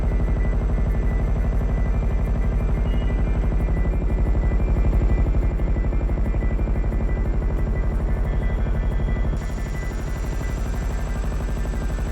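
A Buzzard helicopter in GTA 5 flying steadily, its loud rapid rotor chop and turbine whine continuous and close throughout, the tone shifting slightly near the end, with no speech.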